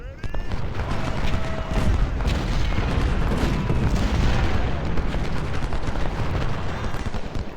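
Artillery cannon fire in the Civil War strategy game Ultimate General: Civil War, with heavy booms blending into a dense, continuous roar of battlefield gunfire that stays loud throughout.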